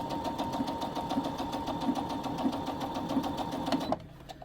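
A Brother SE700 sewing machine stitches fabric along a 1/4 inch presser foot, a steady fast rattling hum lasting nearly four seconds close to the mic, then cutting off abruptly.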